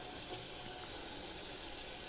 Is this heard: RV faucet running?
yes